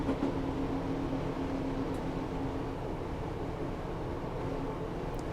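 A Class 150/2 diesel multiple unit coasts along the Bristol to Westbury line in Train Simulator, giving a steady low rolling rumble with a faint hum and no engine surge, moderately quiet and continuous.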